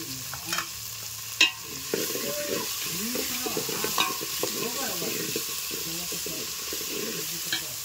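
A vegetable palya fries in an oil pan while a spoon stirs it. A sharp clink comes early, then continuous close sizzling with repeated scraping stirs and occasional light knocks.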